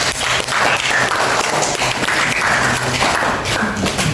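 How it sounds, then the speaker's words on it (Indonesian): Students applaud a group presentation on applications of derivatives in a mathematics class, a steady, loud wash of clapping from a room full of people that holds without a break. "Kasih tepuk tangan dong buat Galea yang masih model."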